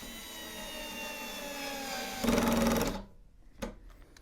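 An Ingco cordless screwdriver runs at its lowest torque setting, a steady mid-pitched motor whine for a couple of seconds that swells briefly louder, then cuts off, followed by a short faint click.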